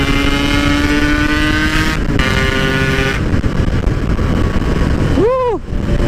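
Yamaha RX King 161 two-stroke motorcycle engine running loud and steady while riding, with a sustained harmonic drone and a rising-falling swoop near the end as another vehicle passes close by.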